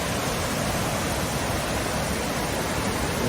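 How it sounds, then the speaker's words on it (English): Roadside waterfall in Rockbridge County, Virginia, flowing in January: a steady, dense broadband rush of falling water, constant and fairly loud, alone without voices. "That's the one waterfall."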